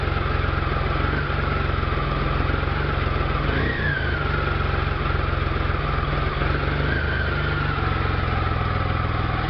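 A 2009 Triumph Rocket III motorcycle engine idles steadily and loudly up close after a recent start, a deep low rumble with a faint mechanical rattle from the cam chain tensioner running throughout, no talk.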